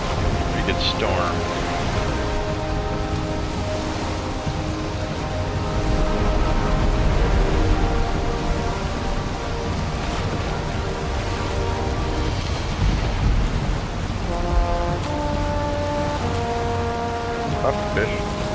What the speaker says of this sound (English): pretty good storm.